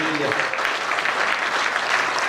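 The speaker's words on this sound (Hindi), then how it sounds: "एक बार मैंने अनुज के सम्मान में दोनों हाथ खोलकर बधाने के तालियों का महोत्सव कर दीजिए।" An audience at a Hindi comic poetry gathering breaks into brisk, even clapping that carries through the moment, just after a voice trails off at the start.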